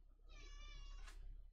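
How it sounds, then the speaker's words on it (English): A cat in the game Monster Train gives a single clear, drawn-out meow, fairly close and loud, ending with a brief sharp burst over a low steady background rumble. "Hello, cat."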